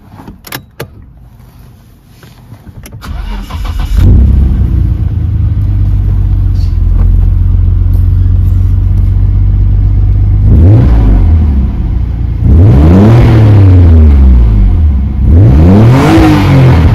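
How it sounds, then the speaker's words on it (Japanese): A Nissan R32 GT-R engine cranks and starts, settles into a loud, steady idle close by, then revs sharply three times toward the end, each rise and fall clearly audible. "GTR もエンジンかけてみる？"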